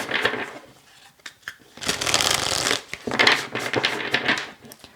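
Oracle cards shuffled by hand in a quiet room, a few bursts of crisp riffling and flicking, close and fairly soft, with short pauses between bursts.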